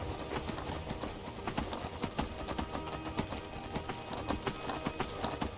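Horse hooves galloping in the Skyrim video game, a fast, steady clip-clop rhythm that stays close and loud for the whole stretch, with dense game ambience underneath.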